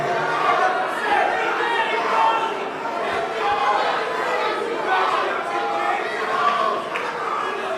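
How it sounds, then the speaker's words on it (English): A dense crowd at a Mike Tyson vs Jake Paul boxing press conference chatters and shouts continuously, with a steady, fairly loud wash of overlapping voices and scattered cheers and yells throughout, no single voice standing out. "Cute little crowd we got here."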